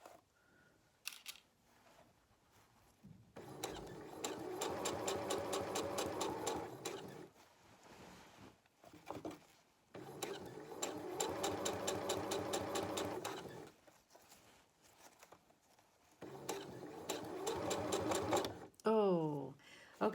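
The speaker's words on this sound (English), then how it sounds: "We're going to stitch all the way down as far as we can go." A sewing machine runs in three long bursts of fast, steady stitching while sewing a seam on Tania culottes, each burst several seconds long with short pauses between, close and fairly loud, and brief handling noises in the gaps.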